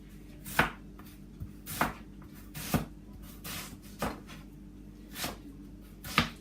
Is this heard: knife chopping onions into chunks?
yes